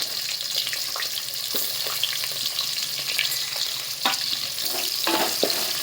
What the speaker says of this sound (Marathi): आता याच्यामध्ये कढीपत्ता टाकून तेल पान टाकलं आणि जो कांदा चिरलेला ना आपण तो कांदा टाकून घेऊ